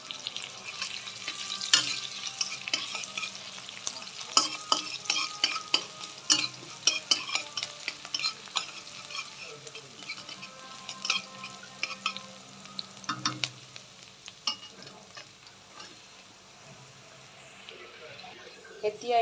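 Onions and green chilies fry in hot oil in a pan at home, with a steady, busy sizzle broken by frequent scrapes and clacks of stirring throughout.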